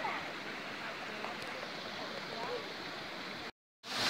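Bassi Falls runs low on water, giving a steady, soft rushing hiss of flowing water that continues evenly before a brief cut.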